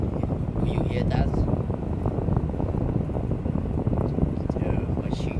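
Kenmore 6,000 BTU window air conditioner running steadily indoors, a continuous broadband whoosh of fan and airflow with low mechanical hum, constant in level throughout.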